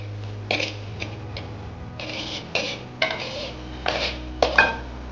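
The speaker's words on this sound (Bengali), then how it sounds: "অনেকক্ষণ আস্তে আস্তে করে নাড়তে হবে।" Chickpea flour frying in a pan is stirred slowly with a utensil, giving intermittent scraping strokes and soft knocks against the pan over a steady low hum.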